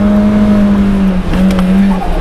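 A Nissan Silvia drives loud and close, its engine holding a steady drone for about two seconds with a brief dip and a faint tire squeal near the end.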